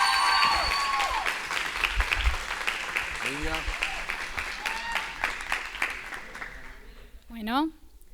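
Audience applause at a church seminar gathering welcoming the next speaker, a steady wash of clapping that fades near the end as a voice begins talking over it.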